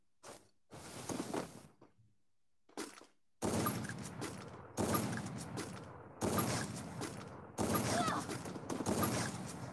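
Gunfire in the battle-royale game Free Fire: bursts of rapid shots in repeated volleys, loud and dense, with short gaps between the bursts.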